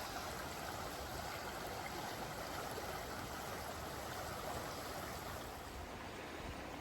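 A stream rushes steadily past a trail crossing on the Appalachian Trail near Chestnut Mountain, a continuous, close, even wash of water with no voices.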